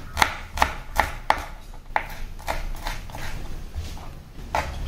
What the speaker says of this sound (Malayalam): ഇതാണ് ചെറിയ ഉള്ളിയാണ്, അതിനെ പരമാവധി നൈസാക്കി തന്നെ അരിഞ്ഞിട്ടേക്കാണ്.